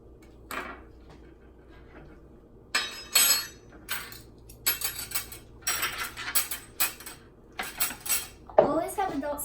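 A knife cuts through a very ripe mango on a cutting board, giving a run of close, sharp clatters and clicks in irregular bursts, with a quieter start and a busier stretch toward the end.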